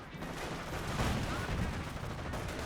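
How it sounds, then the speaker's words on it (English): Battle gunfire in the real-time strategy game Company of Heroes, a dense rolling clatter of rifle and machine-gun shots with rumbling blasts, a voice talking over it. "Heavy enemy fire on our position"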